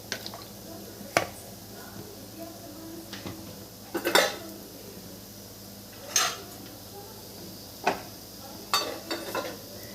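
A metal kadai heated with a little oil for tempering gives scattered clinks and scrapes of a utensil against the pan, with a faint sizzle underneath and quiet gaps between the knocks.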